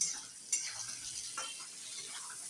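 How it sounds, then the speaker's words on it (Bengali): Chopped tomatoes frying in a pan of masala for lotia fish curry, a soft steady sizzle with a brief clatter as they go in, fairly quiet. "এবার টমেটো কাটাটা দিয়ে দেবো, টমেটো যে কুচি করে রেখেছিলাম সেটা দিয়ে দেবো।"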